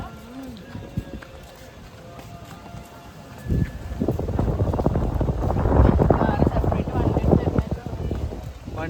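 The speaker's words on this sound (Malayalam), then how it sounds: "നല്ല കാറ്റുണ്ട്. മിക്കവാറും വർത്തമാനം പറഞ്ഞൊന്നും കേൾക്കലുണ്ടാവില്ല." Strong wind buffeting a microphone during a bus journey from Ernakulam to Coimbatore, building from a moderate rush into loud continuous gusty roaring in the second half, with faint talk at the start.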